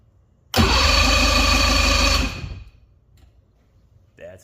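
An engine on a test battery cranks over by its starter after reassembly with the flywheel refitted, giving a loud, steady rhythmic churning for about two seconds that then cuts off, followed by quiet and a brief faint sound near the end.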